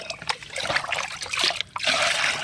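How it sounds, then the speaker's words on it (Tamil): Water poured from a mug into a fertilizer solution, a close, steady trickle with small splashes lasting a couple of seconds. "ரெண்டு மக்கு தண்ணி சேர்த்துக்கலாம்"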